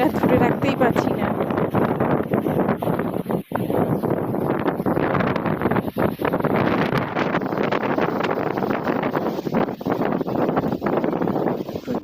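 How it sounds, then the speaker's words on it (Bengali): Fierce storm wind gusts across a house rooftop near a river, a steady, close roar pounding the microphone throughout with a few momentary drops, while someone speaks over it. "প্রচণ্ড হাওয়া হচ্ছে"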